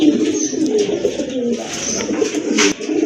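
Pigeons coo steadily at close range, a dense overlapping chorus of low throaty calls from several birds with a few sharper knocks among them.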